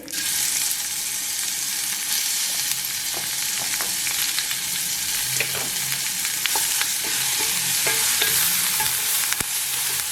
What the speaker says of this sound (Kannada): ನಾನಿಲ್ಲಿ ಪೇಸ್ಟ್ ಹಾಕ್ತಾಯಿದ್ದೀನಿ.